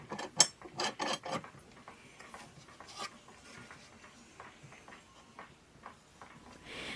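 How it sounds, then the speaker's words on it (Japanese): 600 mm bar clamps are tightened onto glued wooden boards for a homemade lightweight portable sink, giving a quick burst of close metallic clicks and ratchet-like snaps at the start, then sparser, quieter clicks and handling noises. "圧着には 600mm の旗金を使います。"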